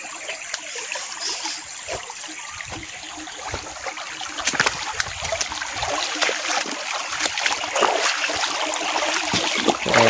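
Water trickles and splashes along a river shallow while people wade across it outdoors, a steady close babble with brighter splashes building toward the end.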